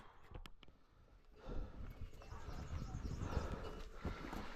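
Donkeys walk along the rocky Everest trail between Surke and Phakding, with hooves clopping in an uneven rhythm that grows louder and busier as the animals pass close by, amid outdoor background noise.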